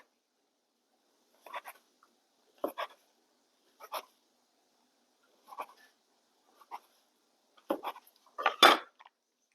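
A knife slices through rolled apple cinnamon bun dough into rolls. About eight short, soft cuts and taps land against a board with quiet pauses between them, the last few closer together.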